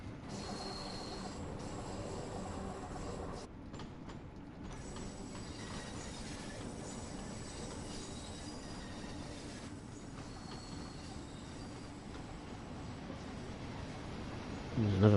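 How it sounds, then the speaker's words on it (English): A video game freight train rumbles past steadily with rolling wheel noise and faint squeals, a continuous low roar that swells slightly at the end. "There's another freight train, I can hear it on the right hand side"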